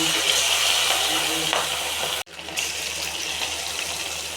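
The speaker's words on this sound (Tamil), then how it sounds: "இது நல்லா அப்படியே ஃப்ரை ஆகட்டும்." Chillies frying in about 200 ml of hot oil for chilli chicken, a dense, loud, continuous sizzle heard up close that cuts out briefly for a moment before resuming.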